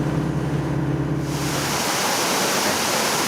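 A waterfall in Baños, Ecuador, roars as a loud, continuous rush of falling water that grows brighter and fuller partway through, with a low hum underneath at first.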